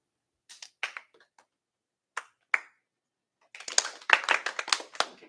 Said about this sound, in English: Clap multiple times.